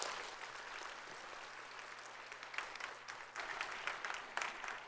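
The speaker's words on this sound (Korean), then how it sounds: "큰 축하 박수 보내주세요" Congregation applause during a Sunday worship service at a church, a soft, distant wash of clapping that swells slightly toward the end, faint in a reverberant hall.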